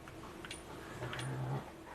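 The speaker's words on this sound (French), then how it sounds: "Mes chiens, vous voulez pas arrêter de gueuler, par contre?" Dogs bark and yelp indoors, faint and somewhat distant, in a few short bursts over a steady low background hum.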